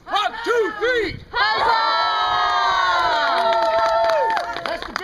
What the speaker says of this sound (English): you're going to laugh, cheer, and go absolutely nuts